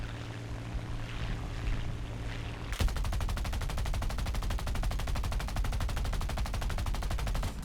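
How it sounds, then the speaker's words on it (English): In War Thunder, a steady aircraft engine drone gives way to a long, unbroken burst of rapid machine-gun fire strafing a light pillbox, loud and close, running to the end. "Let's shoot a light pillbox here."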